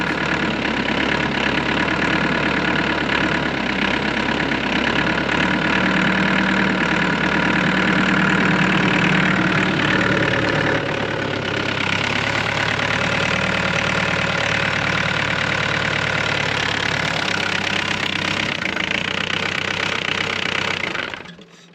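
An excavator's diesel engine idles roughly and unevenly, a loud, continuous, close rumble with a slight knocking unsteadiness. It runs without pause for about twenty seconds and then cuts off abruptly at the end.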